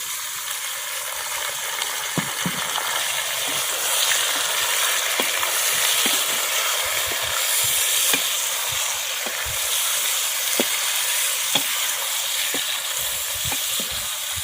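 Chicken frying in a pan for chicken aloo salan, giving a loud, steady, crackling sizzle with scattered pops and a few scraping stirs throughout.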